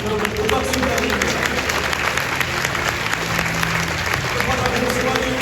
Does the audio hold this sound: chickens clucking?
no